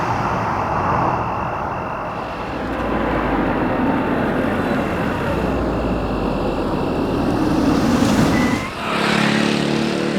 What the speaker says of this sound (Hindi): आ गई हसीना जी की गाड़ी।